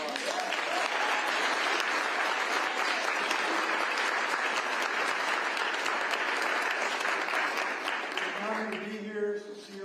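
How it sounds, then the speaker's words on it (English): A crowd applauds at a governor's bill-signing event, with sustained dense clapping at steady volume for most of the stretch before it fades out and a voice begins to speak. "Let's give them a round of applause."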